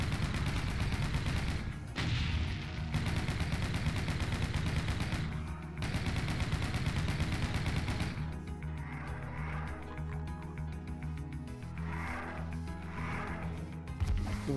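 Chaingunner enemy fire in the Doom 2 video game rattles as dense, continuous automatic shooting under loud game music, pausing for short gaps before resuming.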